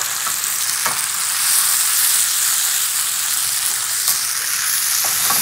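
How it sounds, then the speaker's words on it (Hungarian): Pasta simmering in a mushroom and white wine sauce in a pan, a steady loud sizzle and bubbling hiss with a few soft clicks of utensils. "ebbe a gombás fehérboros tésztafőzőjébe párolom tovább a tésztát"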